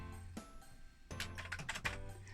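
Keys on a Commodore 16 computer keyboard being pressed, with creaking: a few scattered clicks, then a denser cluster of taps over a steady low hum, close and fairly quiet.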